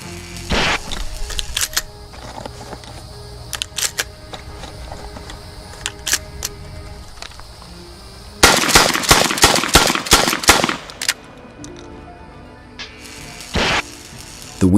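A Winchester M97 pump-action shotgun is slam fired, with scattered sharp shots and mechanical pump clacks followed by a fast, loud volley of rapid blasts in quick succession. A final shot comes after a short lull.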